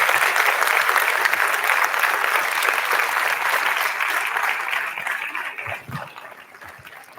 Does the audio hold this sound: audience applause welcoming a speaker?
yes